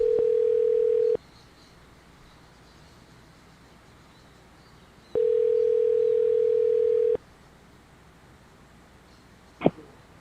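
A telephone dial tone while calling, heard as two long steady electronic tones separated by a few seconds of quiet line hiss, ending with a brief click.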